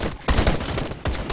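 Gunfire rattles in the war game Call to Arms, rapid overlapping rifle and machine-gun shots cracking in dense bursts, loud and continuous throughout with no talk over it.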